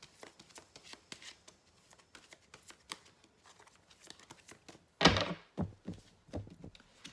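Oracle cards for a metamorphosis reading are shuffled in a steady run of soft, quick flicks and taps, ending in a louder riffle and a few thumps as cards are drawn and set down; no one talks.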